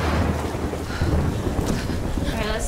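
Storm wind roars in the Tomb Raider video game, a loud continuous rushing gust with rumbling low buffeting that stays dense and unbroken throughout.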